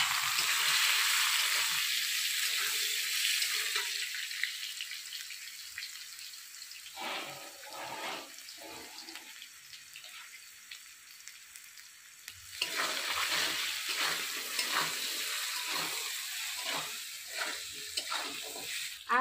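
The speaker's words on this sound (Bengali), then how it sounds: "বাকিগুলো ভেজে নেবে এখন।" Pieces of fish sizzle in hot oil in a pan for a Bengali recipe. The soft, crackling hiss is broken by scraping stirs and louder bursts of frying.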